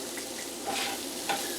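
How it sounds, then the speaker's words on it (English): Potatoes and carrots fry in a pan, a steady sizzle with brief stirring scrapes, close and alone. "you could leave these potatoes frying in here for as long as you want"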